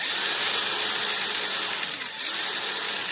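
A repaired, heavily greased Makita angle grinder runs steadily close by, giving a continuous high-pitched motor whine with a slight grinding roughness and no speech over it.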